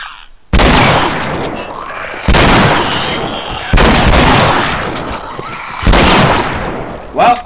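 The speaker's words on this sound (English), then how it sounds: "Let's see what a shotgun can do." Four heavy, booming shotgun blasts in the video game The Last of Us Remastered, loud and close, spaced a second or two apart, each with a long decaying tail.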